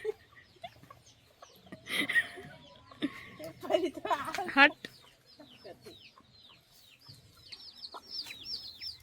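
Chickens cluck and call close by on a rural family homestead, scattered soft clucks mixed with a few louder squawks, while a person speaks briefly over them.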